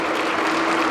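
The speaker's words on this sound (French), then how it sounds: "Donnez un applaudissement au roi." Church congregation applauding at a sermon, a dense, steady wash of clapping filling the whole moment at close range, with no voices over it.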